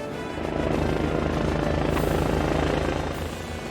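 A helicopter thunders steadily overhead while searching the water and coastline north of Piha, New Zealand, its rotor producing a loud, rhythmic chopping drone that holds for a few seconds.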